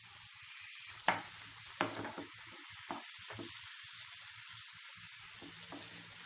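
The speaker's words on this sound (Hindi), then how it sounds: "टमाटर सॉफ्ट होने तक इसे ऐसे ही भूनते रहिए।" Finely chopped tomatoes frying in a pan: a steady close sizzle fills the background, broken by a few sharp clacks and scrapes of stirring, with no voices.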